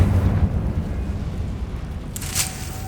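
A Confringo fire-blast spell from the video game Hogwarts Legacy: a low rumbling roar builds, then a sharp bright burst erupts near the end, fairly loud, with no talking.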